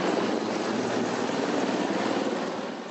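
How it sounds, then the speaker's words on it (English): A steady, loud rotor-and-engine drone hangs overhead, continuous throughout and fading slightly at the end, with no voices. "Helicopters overhead,"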